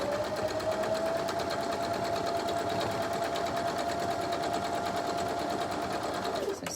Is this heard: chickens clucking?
no